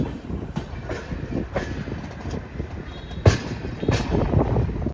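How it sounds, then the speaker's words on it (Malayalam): A passenger train hauled by a WP5 locomotive from the Vadodara shed rolls past with a continuous rumble, rhythmic wheel clatter and a few sharper knocks, fairly close, with no voices. "ആ ട്രെയിനിൻ്റെ ലോക്കോമോട്ടീവ് ശ്രദ്ധിച്ചോ, WP5"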